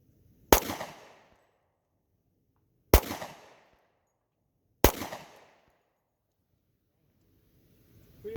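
Three sharp, loud gunshots crack outdoors on the Boardman Lake Trail near Granite Falls, Washington, spaced about two seconds apart, each trailing a short echoing decay into the quiet forest.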